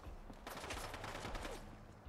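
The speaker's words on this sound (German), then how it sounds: "Muss halt nur sitzen, der Schuss." Rapid gunfire in the video game Fallout London, a dense burst of shots close and loud, with no talking over it.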